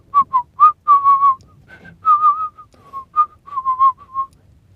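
A person whistles a lively tune of short and held notes, clear and close, with no other sound around it.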